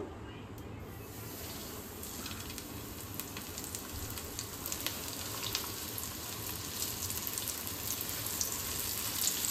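Steady crackling sizzle of whole loitta (Bombay duck) fish frying in hot oil, gradually growing a little louder, with scattered pops and no voices.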